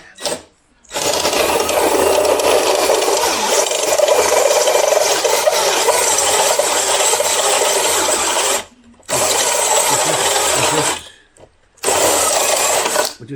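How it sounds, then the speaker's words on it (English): A power tool cuts a hole in the casing for a wire grommet while the motor and blower of a 1957 Oldsmobile Super 88 are being worked on. It makes a loud, continuous rasping whir in three long bursts separated by short pauses. "We're just doing a hole for the grommet for the wires to exit the casing."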